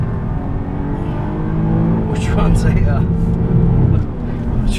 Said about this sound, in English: a 3-liter supercharged V6, making 340 horsepower, and really drives like a sports car